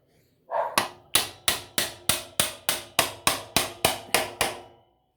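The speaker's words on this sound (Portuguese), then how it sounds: "Vamos empurrar de lá pra cá com o martelo." A hammer drives a greased swingarm bushing into a YBR motorcycle in about twelve loud, evenly spaced metallic strikes, each ringing briefly. The blows are close and have no talk over them.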